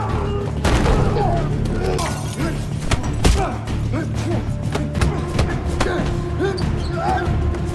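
In a Reacher film scene, a mysterious man attacks and a fierce fistfight breaks out, packed with loud, rapid punches, slams and heavy thuds crashing irregularly one after another over a busy, continuous background.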